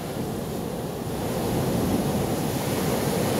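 Sea waves rolling onto the beach at Cox's Bazar make a steady, washing roar of surf with some wind noise, continuous and fairly loud, with no voices.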